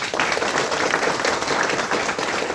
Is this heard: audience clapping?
yes